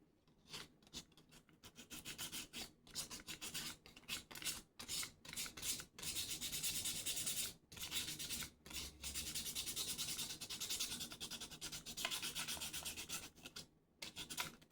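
An AR-15's aluminum receiver is rubbed hard with an abrasive to wear through the factory finish, producing a steady, close, raspy scrubbing in rapid back-and-forth strokes with brief pauses and no speech.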